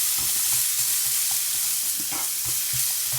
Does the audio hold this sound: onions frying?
yes